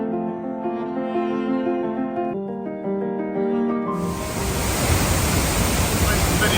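Tegenungan waterfall in Bali roars as a broad, steady rush that swells in after a sung melody fades, loud and close.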